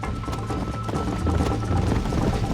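Hooves of a horse galloping in Red Dead Redemption on Xbox 360, a steady rapid clip-clop rhythm close and fairly loud, with faint talk underneath.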